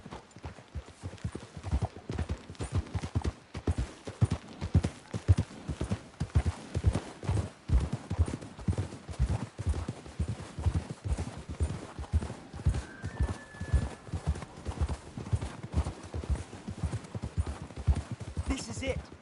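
Horses' hooves clip-clop in a steady trotting rhythm across Red Dead Redemption 2, loud and close, with a brief whinny near the middle and voices talking over the hoofbeats.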